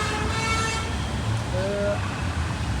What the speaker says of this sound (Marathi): आली आली आली आली भाई आली गाडी आली